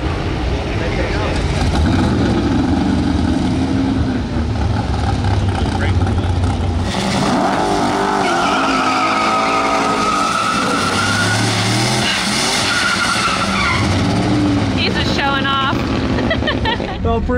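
A Mercury Marauder car roars loudly at a dragstrip, with a sustained engine and tire rush that shifts pitch as it launches, while people talk and shout excitedly over it.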